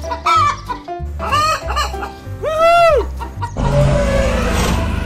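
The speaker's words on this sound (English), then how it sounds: "Chicken." Chicken clucks and cackles in a playful cartoon-style sequence, several short squawks and a rising-falling call over bouncy background tones, loud and close, ending in a noisy burst.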